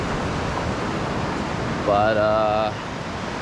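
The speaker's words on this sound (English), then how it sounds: "I want to see what the waves are looking like today" Ocean waves wash steadily onto the sand at Mystic Beach in a broad, continuous rush at an outgoing tide, with a brief word spoken partway through.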